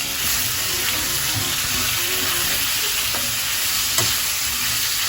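Marinated beef sizzling loudly in a hot pan while being stirred, a steady dense frying hiss with occasional scraping clicks from the utensil, close and uninterrupted.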